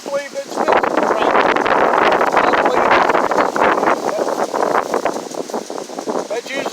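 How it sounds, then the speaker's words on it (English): Loud, gusting wind buffets the microphone in a continuous roar on a farm before rain, with a voice talking underneath. "Now the wind's starting to blow."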